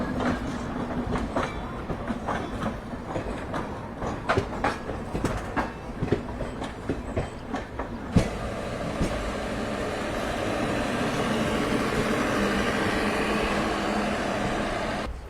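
The Siddhbali Jan Shatabdi Express, running from Delhi to Kotdwar, rattles along with rhythmic clickety-clack of wheels over rail joints, then gives way to a steadier, broader rolling roar partway through; no voices.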